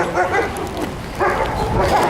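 A snow-covered dog in Ushuaia gives a few whining, yipping barks in short bursts, close and fairly loud, mixed with people talking nearby.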